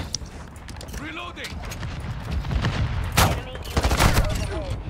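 Bombs dropping in a video game, heard as a dense rumble of blasts and rattling gunfire that swells into loud bursts midway, with people talking over it.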